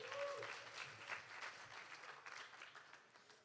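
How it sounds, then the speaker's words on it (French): An audience claps briefly after a presentation. The applause is quiet and distant, a short burst of dense patter that gradually thins out. "Merci André, on peut l'applaudir."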